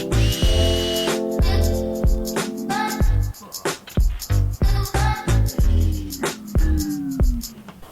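A power drill backs screws out of a car's front splitter in short bursts that whine up and stop, with clicks and clatter in between, loud and close, no talking.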